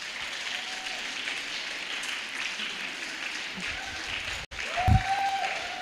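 Audience applause at a ladies' institute awards event honoring runners-up, a steady broadband wash of clapping throughout, with a brief dropout near the end before resuming louder.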